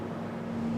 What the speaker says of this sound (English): mate, if you could just turn the engine off